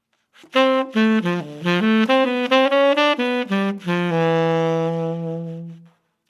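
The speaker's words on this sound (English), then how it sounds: "This is sort of a classic bebop swing sort of shape." A single melodic instrument plays a quick swinging bebop line of short notes, ending on a long sustained tone that fades out.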